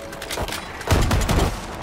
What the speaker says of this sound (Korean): 일단 총소리 합격